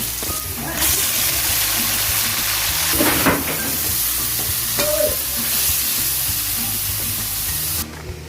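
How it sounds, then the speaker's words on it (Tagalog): Liver sautéing in a pan for Filipino menudo gives a loud, continuous sizzle and hiss up close, with occasional stirring scrapes. "Unahin natin guys, gisahin yung ating atay."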